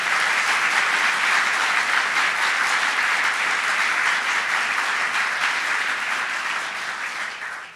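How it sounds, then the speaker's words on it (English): Dense, sustained applause fills a hall at a New York State gubernatorial inauguration in Buffalo, loud and even for several seconds before fading slightly at the end. "let's give them a round of applause"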